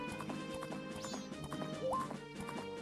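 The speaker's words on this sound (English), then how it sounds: "Hop aboard the old horse, and we're gonna head to the west" Horse hooves clip-clopping in a quick galloping rhythm in the video game Zelda: Majora's Mask, over game music with rising chime tones, fairly quiet overall.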